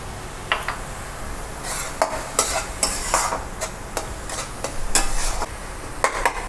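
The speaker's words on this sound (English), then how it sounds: "While the onions are cooking," Onions with salt fry in a kadhai and are stirred now and then, a steady sizzle broken by scraping strokes and clinks of a spoon against the metal pan, close and fairly loud with no talking.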